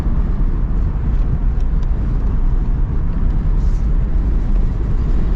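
Steady, loud wind buffeting and road rumble fill the cabin of a 2024 Mazda Miata RF driving with the top down, a constant low roar with no breaks.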